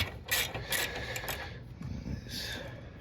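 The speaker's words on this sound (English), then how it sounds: "This bolt is coming out as if it's bent, but I think that's the way my socket is on it." A ratchet socket wrench backs out an 8mm bolt on a 1994 Honda GL1500 Goldwing, giving several close bursts of quick metallic clicking with brief pauses between them.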